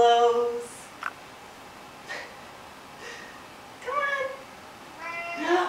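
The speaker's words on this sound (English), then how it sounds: "we'll count that as a meow" A cat meows several times, short and fairly close, with spaced calls and soft breathy snorts between them in a quiet room, ending in a longer, louder meow.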